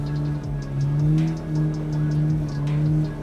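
A Lada Zhiguli engine revs hard while drifting sideways around a circle, its tone rising and falling in repeated surges, loud and close, with faint tire noise.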